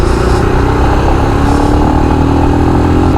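Royal Enfield Scram 411 motorcycle engine running steadily and loud throughout, a continuous close mechanical drone with no talk.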